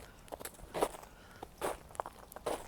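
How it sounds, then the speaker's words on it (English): Footsteps crunch over frozen, icy snow outdoors, a steady walking rhythm of crisp crackling steps at moderate volume with no voices. "You'll hear when I walk on it. Listen to the crunch."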